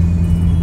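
Steady low rumble of a 2006 Ford Mustang V6 engine running close by, loud and even throughout the brief moment with no talking.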